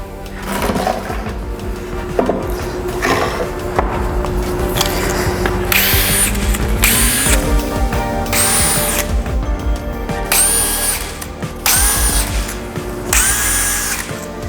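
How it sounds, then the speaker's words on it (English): A power drill whirs in repeated bursts, spinning up and pre-drilling into wood through 1/8 inch holes while mounting a climbing hangboard, each burst rising in pitch before stopping, close and loud. "you're just pre-drilling through the 1/8 inch holes that are already on this piece"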